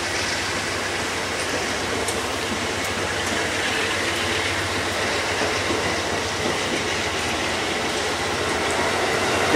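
Trains operated by CSX, NS, UP and Amtrak are departing as a loud, continuous roar of rolling railcars with rhythmic wheel clatter and faint squeals, steady throughout and swelling slightly at the end.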